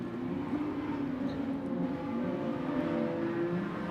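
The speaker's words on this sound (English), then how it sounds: "So head down the back straight, Jim Cowley doing the best at the moment out in front" Production sedan race cars run down the back straight at a night race, their engines droning steadily and fairly faint at a distance, with no talk.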